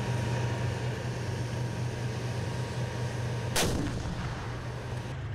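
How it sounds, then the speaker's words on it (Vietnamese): One sharp, loud 125mm tank cannon blast cracks out and rolls away during weapons calibration firing at Alabino range near Moscow, over a steady low tank engine drone. "những tiếng đạn pháo 125mm và tiếng động cơ trong buổi hiệu chỉnh vũ khí"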